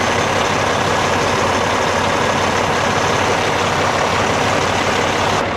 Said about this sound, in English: I don't need the truck running for that.